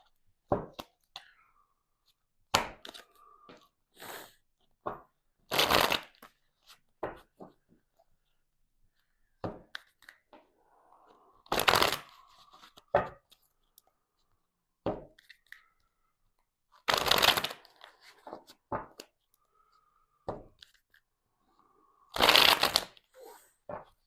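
Tarot cards are shuffled close by in repeated bursts, each a sharp riffling flutter followed by softer taps and handling sounds, separated by quiet pauses in an otherwise silent room.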